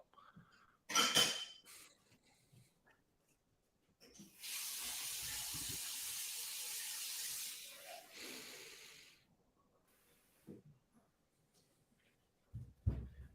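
A tap runs water steadily for a few seconds, a broad hiss that starts abruptly and then stops, with small knocks and handling sounds before and after in a quiet room.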